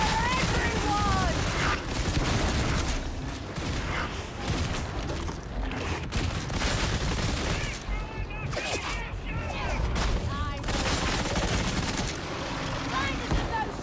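Dense gunfire in the video game Darktide, near and steady for the whole stretch, with bursts and booms layered over music and game effects while a voice talks over it at times.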